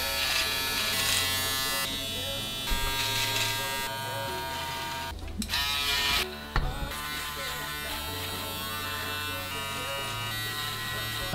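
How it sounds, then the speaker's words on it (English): An electric shaver fitted with a precision blade buzzes steadily and close while trimming along a jawline, with brief pauses and changes in pitch as it presses against the skin and moves away. "now I'm using the precision blade. Here I'm taking care of my jawline."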